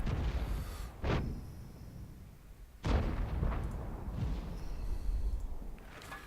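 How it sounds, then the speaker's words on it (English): Two heavy artillery shots boom in World of Tanks, from FV 304 and Hummel self-propelled guns, each a sharp blast with a rolling tail over a low battlefield rumble. "Looks like the other Arty just fired at the T-34-85 as well"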